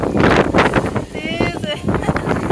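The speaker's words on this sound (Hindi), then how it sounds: "देर हवा चल रही है" Strong wind blows across an outdoor wedding gathering, buffeting the microphone in loud continuous rumbling gusts beneath someone talking throughout.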